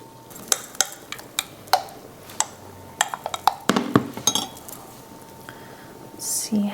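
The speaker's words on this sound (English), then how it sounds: "Okay, we'll stir." A spoon stirs broccoli cheese soup in a pot, giving a run of sharp, irregular clinks and scrapes against the pot with a soft bubbling undertone, fairly close and with no talking.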